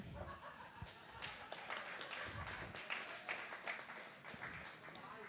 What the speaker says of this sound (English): did you see how not every man in the room clapped?